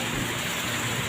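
Heavy rain pours down steadily, a dense, loud, unbroken hiss of rainfall filling the whole moment without any voices.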